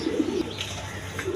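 A pair of short-face pigeons gives soft, low cooing, a few rolling coos close by with no voices.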